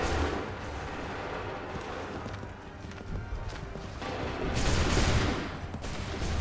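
A volley of musket fire rings out on an Assassin's Creed 3 battlefield, rough crackling gunfire bursts over a busy din, swelling into a louder blast near the end.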